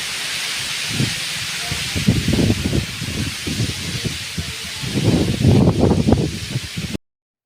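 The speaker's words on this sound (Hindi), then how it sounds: "मौसम एकदम खराब है संगवारी हो, हवा चला के देखो।" Wind gusts in stormy weather, a rough rushing roar close to the microphone that swells and eases in uneven waves before cutting off abruptly.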